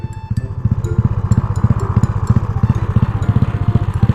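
A Honda Wave 110 motorcycle with a 5x oversize piston runs loud and close, its engine revving in a fast, steady pulsing rhythm with a rough, buzzy exhaust note.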